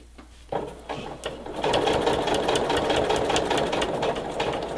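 Sewing machine stitching steadily over pinned fabric, a continuous close mechanical whirr with rapid needle clatter that starts softly and builds to a sustained run.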